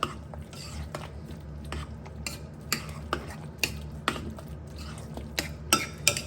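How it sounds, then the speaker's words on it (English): Eggs being stirred through a potato and pea tortilla mixture in a bowl, giving soft wet scraping with occasional light utensil clicks against the side, close and fairly quiet, with no talking. "I'm going to continue to call it tortilla, so I'm just going to mix my eggs through all of that"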